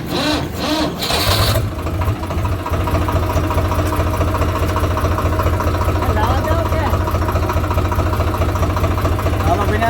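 A tractor engine chugs steadily at close range with a low, rhythmic thumping, after a brief burst of noise at the start.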